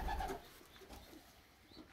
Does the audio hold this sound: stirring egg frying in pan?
no